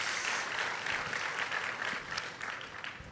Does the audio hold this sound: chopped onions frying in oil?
no